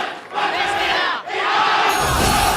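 A packed esports arena crowd at an MPL Indonesia Mobile Legends match roars and cheers loudly, a dense wall of voices swelling again after a brief dip, with no single speaker standing out.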